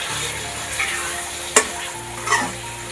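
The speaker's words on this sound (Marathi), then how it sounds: "आता हे ढवळून घेऊया." Chicken and onions sizzle steadily in a hot pan as they are stirred, with a few sharp scrapes and clatters of the spoon up close, and no talking.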